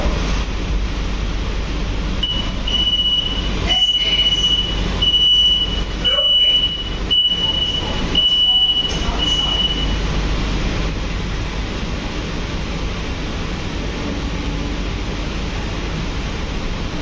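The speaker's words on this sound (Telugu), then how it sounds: "మన ట్రైన్ అయితే ఇప్పుడే తాంబరం శానిటోరియం స్టేషన్లోకి అయితే ఎంటర్ అయిపోయింది." An AC EMU local train pulls into Tambaram Sanatorium station on the Chennai Beach to Tambaram line, a loud, steady broadband rumble from inside with a thin repeated high tone and some brief rattling knocks partway through.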